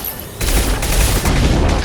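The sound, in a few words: gunfire in the video game Mass Effect Legendary Edition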